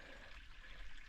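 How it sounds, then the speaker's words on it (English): Runoff water flows through a backyard drainage ditch days after rain, a faint, steady trickling gurgle with a low rumble beneath, no voices. "this water's still running, even though it's been a few days"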